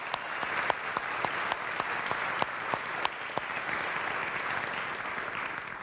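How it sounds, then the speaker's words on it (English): Steady audience applause for faculty award winners at a university address, a moderate wash of clapping with a few sharp distinct claps standing out near the front. "So we should give them a round of applause."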